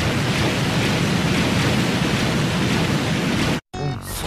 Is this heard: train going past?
no